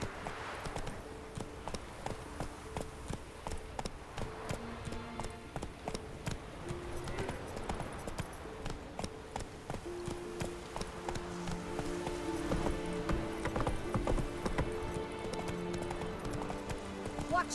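Roach, a horse in The Witcher 3, gallops with a rapid, rhythmic clip-clop of hooves that continues throughout, mixed with game music and speech.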